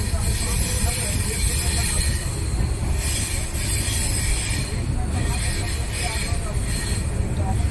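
Train wagon noise heard from aboard a passenger train travelling from Pune to Chandrapur, a loud steady rumble with wheel squeal and hiss filling the whole stretch, no clear voices over it.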